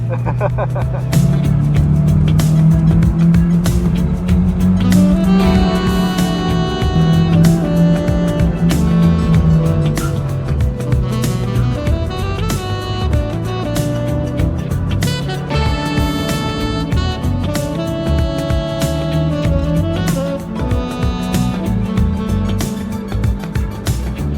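Mazda NC Miata with a Nardi steering wheel lapping a race track at a track day, its engine droning loudly and steadily with rising and falling pitch through gear changes, close up with no talk.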